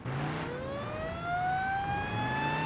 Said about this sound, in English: Old-ass siren from back in the day.